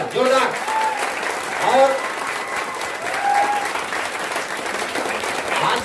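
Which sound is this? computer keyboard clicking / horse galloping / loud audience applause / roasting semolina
loud audience applause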